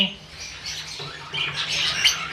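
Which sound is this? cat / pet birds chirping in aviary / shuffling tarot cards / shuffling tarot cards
pet birds chirping in aviary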